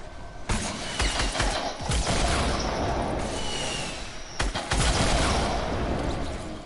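Dense, rapid bursts of gunfire in Fortnite fill a duo match, loud and continuous with sharp volleys and brief gaps, with no voices over it.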